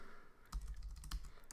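A handful of soft, close clicks from a computer keyboard as Linux terminal commands are entered, spaced irregularly over a faint background hum, with no voices.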